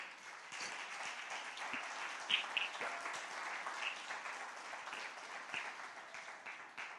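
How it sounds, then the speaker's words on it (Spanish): A church congregation claps in a sustained round of applause, a soft, dense patter of many hands heard at a distance with a few sharper claps standing out. "Denle un aplauso al Señor."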